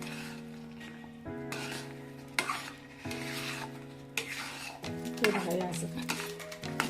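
Ghee is mixed spoon by spoon into Bombay Karachi halwa, a spoon scraping and stirring against the pan in bursts with a soft sizzle, while a voice talks over it.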